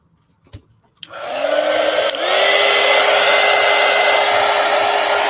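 A hair dryer switches on after a click and blows loudly and steadily close by to dry artwork, with no talking over its whir.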